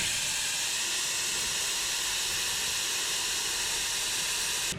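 Air hisses steadily out of the backed-out valve of a Nissan Pathfinder R51 tire on a 4x4 trail, a loud, continuous close-up rush that holds without a break until it cuts off abruptly at the end.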